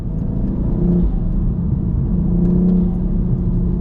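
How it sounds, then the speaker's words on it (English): A BMW M240i engine drones with a low, breathy intake roar, steady and close, swelling slightly as the revs shift, with no voices. "That intake noise."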